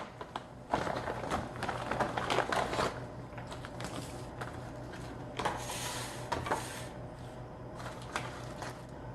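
Crinkly plastic crackle and tearing of an MRE ration pouch (Sopakco penne with vegetable sausage crumbles in spicy tomato sauce) being opened up close, a steady run of rustling with sharper rips and bursts throughout.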